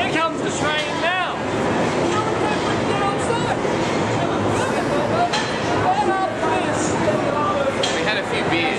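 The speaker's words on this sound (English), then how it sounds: "Here comes the train now!" A train pulls into a London station with a loud, steady rumble and high metallic brake squeals near the start, while crowd chatter murmurs in the background.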